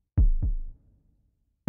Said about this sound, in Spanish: Puedo escucharlo, mi latido del corazón.